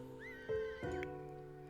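A hungry horse named Kronk neighing in a life-simulation video game, one clear whinny with a sharp rising start and a second pitch break before it fades, close and loud with no talk.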